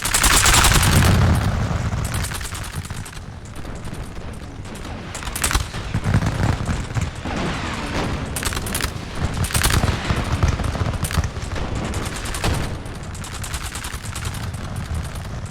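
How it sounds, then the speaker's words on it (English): Massed musket volleys fired by line infantry in a Napoleonic strategy game, a long, loud fusillade of crackling shots and booms that rolls on in ragged bursts. "Now these guys are gonna take aim and fire."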